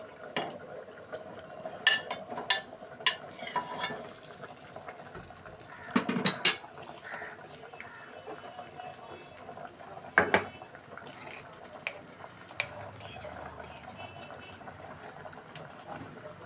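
Raw mango pieces go into a pot of boiled pumpkin and sweet potato, bringing a few sharp clinks and knocks, then soft stirring clatter over a quiet kitchen background.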